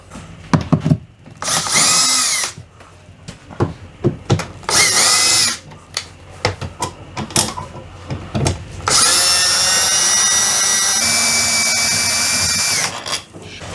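A power tool, an impact driver or drill, backs out 8- to 10-inch hold-down bolts on an RV roof air conditioner, working in loud whirring bursts with clicks and clanks between, then a long sustained high whine, close up and without talk.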